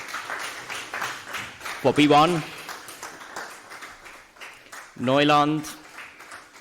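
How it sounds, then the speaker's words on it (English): Audience applause at a conference closing ceremony, continuous light clapping from a crowd that stays under someone speaking over a microphone. "maybe a round of applause again for Adi Systems"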